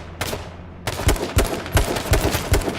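Rapid gunfire in the survival shooter game H1Z1, a quick series of sharp close shots in an uneven burst rhythm, loud with no speech over it.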